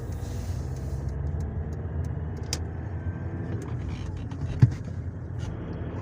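Car engine droning steadily from inside while driving toward a forest, a low continuous rumble with a brief knock near the end and a voice speaking over it.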